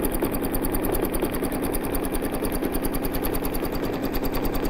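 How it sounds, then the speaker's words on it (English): A sewing machine runs steadily and loudly up close, zigzag stitching yarn onto fabric with a fast, even mechanical chatter that continues unbroken throughout, with no voices over it. "you're just drawing on fabric with yarn by using a zigzag stitch to make sure that it's attached"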